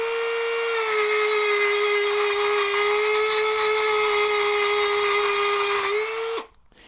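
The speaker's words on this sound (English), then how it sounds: "I'm going to have to use the Dremel again" A Dremel rotary tool cutting aluminium on a 1/6 scale Armortek Tiger 1 tank model gives a loud, steady, high-pitched whine that spins up, holds for about five seconds, then winds down abruptly.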